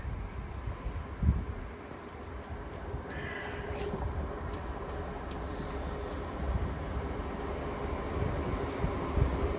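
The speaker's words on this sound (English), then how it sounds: "Here comes the train." A Chiltern Railways Class 168 diesel train pulls into a station: a faint, steady low rumble builds gradually, with a few brief higher squeals early on and no talk.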